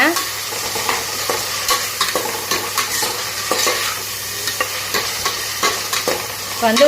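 Tomatoes sizzle and fry in a hot pan while a utensil stirs and scrapes repeatedly, with no talking.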